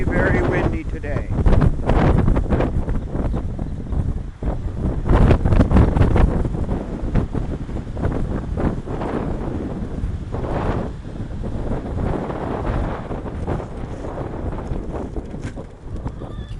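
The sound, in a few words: strong wind on a farm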